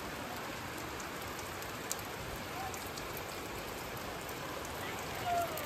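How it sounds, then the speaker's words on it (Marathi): Heavy monsoon rain pours down in Mumbai after days of nonstop downpour, a dense, steady hiss of water on surfaces that holds evenly throughout with no voices. "3 दिवस झालं पाऊस पडतो, अजून थांबला नाही"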